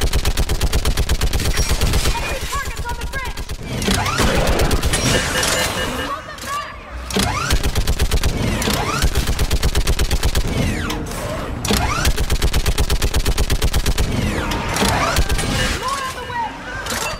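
A mounted gun in Mass Effect 3 fires long, rapid automatic bursts, loud and rhythmic, pausing briefly between volleys, with voices talking over the battle.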